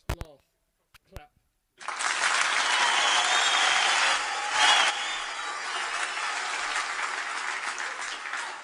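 Canned applause sound effect played on a live stream: a few sharp isolated knocks, then a sudden burst of dense crowd clapping and cheering that holds steady for several seconds and tapers slightly at the end.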